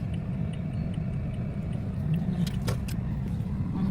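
Steady road traffic hums close by, a continuous low rumble of passing cars with a few brief brighter whooshes near the end, and no talking.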